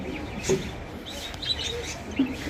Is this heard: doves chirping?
yes